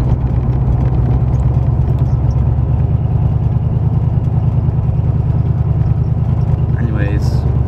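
A pro-touring wagon engine runs steadily and loud throughout, a continuous low drone close by with no clear revving, and a brief higher whine near the end.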